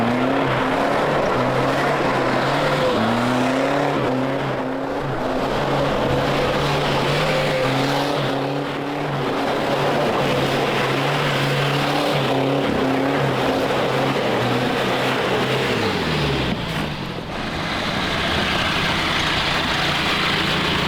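A Jeep engine runs steadily while the vehicle drives, a close, continuous droning hum that rises and falls in pitch as it revs and shifts, with no one talking.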